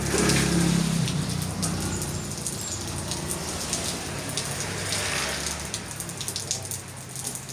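Constant rainfall hissing close by, with a low engine-like rumble loudest at first and fading as the downpour continues.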